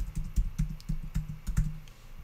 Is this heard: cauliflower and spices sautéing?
no